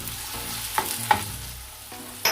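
Potatoes with chopped tomato and green chili being stirred on a hot tawa: a sizzling hiss under several distinct scraping strokes of the spoon, close and fairly loud, with no voices.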